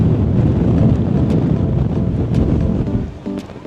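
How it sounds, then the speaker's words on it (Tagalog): Strong wind on a small mountain near Las Vegas buffets the microphone with a loud, continuous rumbling roar. The gusts ease slightly toward the end, and no one speaks. "Ang lakas ang hangin na nako."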